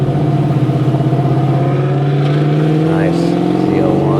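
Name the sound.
Chevrolet Camaro ZL1 car driving past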